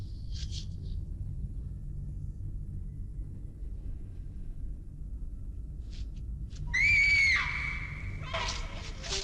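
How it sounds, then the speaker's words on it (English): A woman lets out a single shrill scream from a 1965 monster movie, loud and rising, heard after a stretch of low rumbling soundtrack with brief faint noises. "Why is she screaming?"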